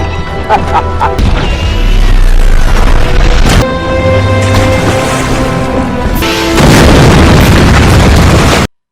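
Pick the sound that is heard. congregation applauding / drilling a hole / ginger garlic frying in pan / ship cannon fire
ship cannon fire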